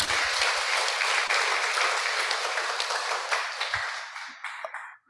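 An audience at a nursing-department guest lecture in Denpasar applauds. The clapping is dense and sustained, then thins to a few scattered claps and stops.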